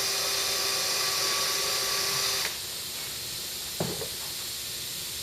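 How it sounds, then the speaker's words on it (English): Small drill bit boring through a snowboard's top laminate, a bright whining hiss that cuts off abruptly midway, then a faint quiet room with a brief clack. "drill another little hole."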